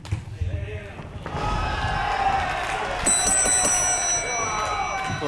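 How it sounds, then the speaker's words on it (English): Wrestling ring bell at a RawDeal event in Stevenage, a bright metallic ring rising over crowd noise and a commentator's talk, with bouncing thuds from the ring. "the bell has rung"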